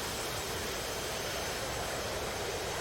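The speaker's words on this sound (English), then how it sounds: "All clear for takeoff" Steady, broad engine roar of an airplane throttling up for takeoff in a flight simulator game, a constant dense wash of jet or propeller noise with no pauses, moderately loud.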